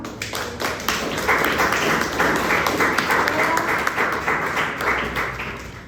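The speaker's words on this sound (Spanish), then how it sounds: "Muy bien, vamos a aplaudir al compañero." A class or lecture audience applauds a presenter after a medical talk, an even stream of many hands clapping at moderate volume, swelling slightly then easing toward the end.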